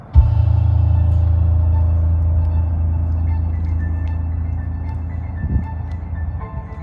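A melodic tune plays outdoors from a Tesla's external speaker during its holiday light show over a steady low rumble, continuous and fairly loud for several seconds.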